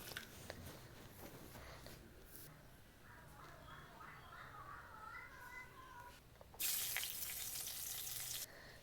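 Black cumin seeds with dried and green chillies sizzling in hot oil for a tempering, a steady soft crackle that swells into a loud, bright hiss near the end; no one speaks.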